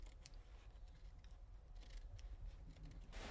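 Scissors snipping fabric while trimming a sewn trouser patch, several quiet cuts close by, with a brief sharper rustle near the end.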